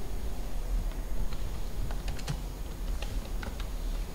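Keys clatter on a computer keyboard as a book title is typed into a manuscript cataloguing program, an irregular run of close, fairly soft clicks over a low steady background hum, with no talking.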